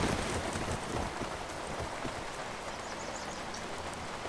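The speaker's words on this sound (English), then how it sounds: "Beware acid rain." Acid rain falls steadily in the video game Cataclysm: Dark Days Ahead, a dense even hiss of drops pattering on surfaces that stays constant throughout.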